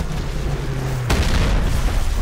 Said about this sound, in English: We could try to lob some grenades in there.